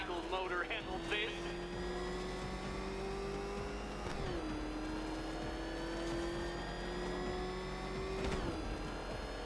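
The Batmobile engine races in the video game Batman: Arkham Knight, a sustained high engine whine climbing in pitch and dropping twice with gear shifts, under steady background game sound.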